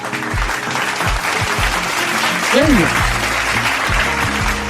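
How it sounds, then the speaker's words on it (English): Applause sound effect plays as a steady, dense burst of hand claps that fills the clip, loud and continuous, while a person speaks over it. "Let me give you some hand claps."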